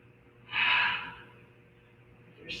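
A single audible breath during a yoga flow between down dog, plank and up dog, a soft airy rush swelling and fading over about a second, followed by a brief faint intake near the end; no talking.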